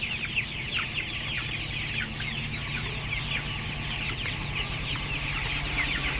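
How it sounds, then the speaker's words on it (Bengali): Sonali chickens on a farm peck at cabbage while clucking and peeping constantly, a dense chorus of short overlapping calls over a low mechanical hum. "দেখেন সোনালী মুরগি পাতাকপি কিভাবে খায়।"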